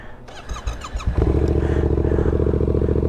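A Kawasaki Ninja 400 race bike engine starts up after a few clicks and settles into a steady, close, loud idle.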